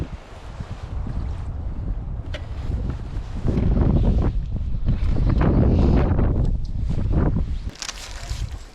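A fishing boat running in gusty spring wind, a loud steady rumble of hull and engine buried under heavy wind buffeting on the microphone, rising in the middle and easing toward the end.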